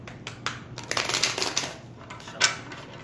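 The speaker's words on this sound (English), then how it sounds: "I want to shuffle this one more time" Tarot cards being shuffled by hand, a quick series of crisp riffling flutters and soft slaps close by, with no talking over them.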